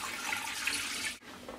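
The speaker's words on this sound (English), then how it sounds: "Then all we have to do is strain the liquid" Boiled chicken stock pours steadily through a strainer, a continuous close watery splash that stops briefly near the end before trickling on.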